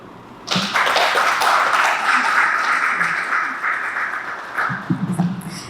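An audience at a Federal Judiciary electoral process report breaks into sustained applause, a dense wash of clapping that swells quickly, holds steady for several seconds and then thins out into scattered claps.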